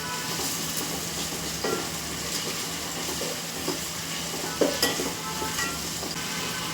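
Chicken pieces with a small amount of ginger-garlic paste frying for chicken fry piece biryani, a continuous close sizzle with occasional soft stirring knocks.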